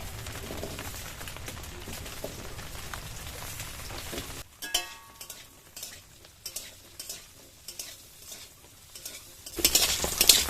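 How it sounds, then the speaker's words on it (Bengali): Small diced potato pieces fry in mustard oil, a steady sizzle that gives way to repeated scraping stirs of a utensil against the pan in short bursts, followed by a louder sizzle near the end. "আলুগুলো কিন্তু এরকমই লাল করে ভেজে নিয়ে তুলে নেব।"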